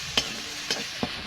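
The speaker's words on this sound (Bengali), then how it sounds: "মশলাটা ভালো করে কষিয়ে নেব।" A paste of onion, garlic, ginger, cumin, green chili and mustard being stir-fried in a pan, a steady sizzle punctuated by three sharp scrapes of a spatula, close and alone.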